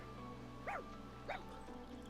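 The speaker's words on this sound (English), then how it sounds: "It's a dog." A dog in the video game Fire Emblem Engage gives two short, yipping barks about half a second apart, fairly soft over a steady game background hum.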